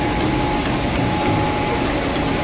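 Blower running at a scaffolding installation site at a Toshiba project in Biñan, Laguna, heard as a loud, steady, continuous whooshing roar with no breaks, close by.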